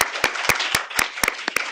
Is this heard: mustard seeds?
no